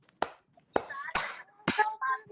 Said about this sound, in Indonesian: Kalau kau senang hati tepuk tangan.